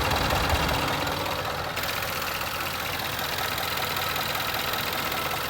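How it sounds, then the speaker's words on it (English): A 2012 Range Rover Sport idles with its radiator fan running, giving a steady, even engine hum under a constant fan whoosh, close and unbroken with no talk. "now the car idling and fan is moving."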